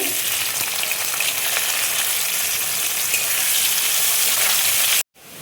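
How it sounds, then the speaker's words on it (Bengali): Bay leaves and chopped onion fry in hot oil for an egg curry, giving a loud, steady, crackling sizzle. It continues for about five seconds, stops abruptly, then returns faintly. "তেলের মধ্যে দেখো আমি তেজপাতা দেখো দিয়ে দিচ্ছি, পেঁয়াজ কুচি দেখো দিয়ে দিচ্ছি"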